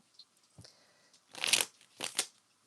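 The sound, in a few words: shuffling cards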